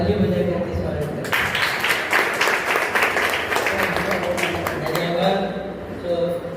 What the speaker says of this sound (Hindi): बाकी हमारा काम ताली बजा करके स्वागत करें।